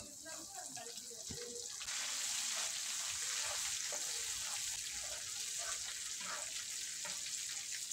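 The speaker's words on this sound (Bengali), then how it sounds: "এবারে দিয়ে দেব চেরা কাঁচা লঙ্কা।" Slit green chillies fry in a pan with a constant bright hiss and sizzle as the last of the water cooks off, a thick coriander-leaf pickle mixture crackling with scattered pops and a few light clinks throughout.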